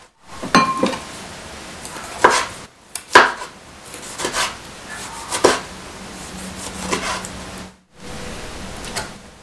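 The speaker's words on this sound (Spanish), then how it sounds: "Posteriormente continúo con los jitomates. También los corto en trocitos pequeños." A knife chops tomatoes into small pieces on a board, with a series of sharp, close knocks that come in irregular bursts separated by short pauses.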